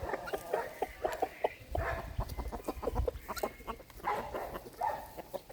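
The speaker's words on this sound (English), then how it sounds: "Chickens!" Homestead chickens cluck and squawk close by in short, repeated bursts, with scratching and rustling underneath and low thumps of movement, no talking.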